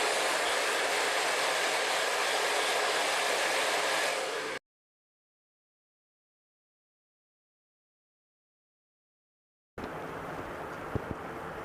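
Hand-held hair dryer blowing hot air at the roots while drying curly hair: a steady, loud broadband whoosh that runs for over four seconds, cuts out completely for about five seconds, then resumes just as strongly.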